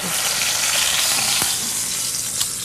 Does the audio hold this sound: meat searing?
yes